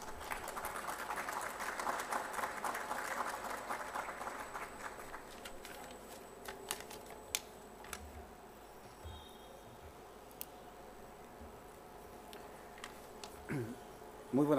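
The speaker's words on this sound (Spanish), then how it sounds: "Un fuerte aplauso para él, por favor." Applause at a university department's inauguration ceremony starts as a brief, moderately close patter of clapping, then thins out within a few seconds, leaving a quiet room with scattered small noises and shuffles.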